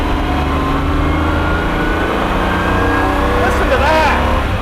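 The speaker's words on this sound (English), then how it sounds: "That's what a race car sounds like, just an enormous amount of sound." A Jaguar XJR-15 race car engine roars loud and constant from close by, with a rising rev near the end.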